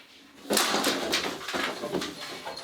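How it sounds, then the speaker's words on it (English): A cat chasing a fly rattles a window blind at home: a few bursts of clattering, scraping slat noise come close and fairly loud after a quiet start, uneven and jerky, with no talking. "Do you hear that noise? It's my blind."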